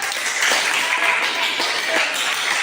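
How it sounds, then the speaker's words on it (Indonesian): Classroom audience clapping after a group presentation, a steady, dense round of applause from many hands filling the room at even loudness with no break. "berikan tepuk tangan untuk"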